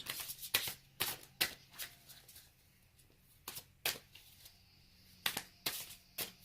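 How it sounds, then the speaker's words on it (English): Tarot cards are reshuffled by hand, producing a series of sharp, close riffling bursts at an irregular rhythm with quiet gaps between them and no talking. "I'm going to reshuffle these cards and then do a future."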